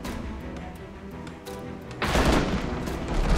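Ship cannons fire in the naval combat game Abandon Ship, a sudden heavy boom erupting partway through and followed by a sustained loud rumble of blasts over a quieter ambient bed.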